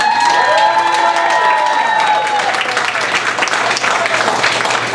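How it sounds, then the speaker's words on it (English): A comedy club audience applauds the bar staff during a headlining stand-up set, loud sustained clapping with some cheers, the room's chatter fading as the applause fills in. "give a round of applause for the bar staff"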